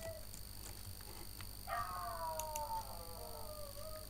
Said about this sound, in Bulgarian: Ако го чувате, това е кучето ми.